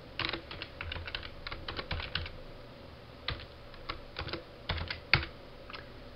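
Typing on a computer keyboard, close, crisp key clicks in short bursts separated by brief pauses, with one sharper keystroke near the end.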